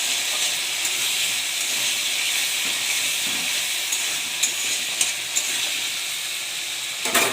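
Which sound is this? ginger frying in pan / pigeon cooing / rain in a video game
ginger frying in pan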